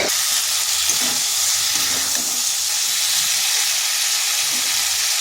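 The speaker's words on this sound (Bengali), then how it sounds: "এটাকেও ভালো করে কষিয়ে নিতে হবে।" Cauliflower curry with potatoes sautéing in a pan, giving a steady, even sizzle and hiss that runs unbroken and fairly loud, with faint low clatter underneath.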